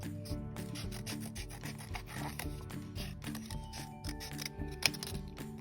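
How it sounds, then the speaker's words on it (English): Scissors cut shapes from folded lavender paper up close, with quiet rapid snips and rustling, faint and continuous, alone without talking. "So I'm gonna fold vertically like this and cut some more big shapes."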